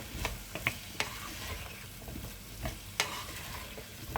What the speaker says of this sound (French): on fait revenir les courgettes à peu près une quinzaine de minutes